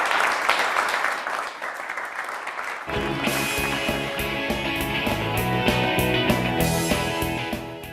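Italian TV studio audience applause rattles briefly before upbeat music takes over and plays on steadily.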